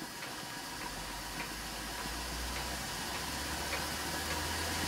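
A scratch-built model aeolipile steam engine runs with a steady, close broadband steam hiss, a faint regular ticking and a low hum throughout, with no talk.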